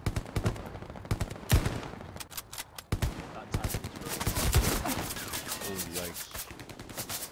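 Heavy gunfire in Hell Let Loose, dense volleys of rifle and machine-gun shots cracking in bursts near and far, with a voice exclaiming over the din.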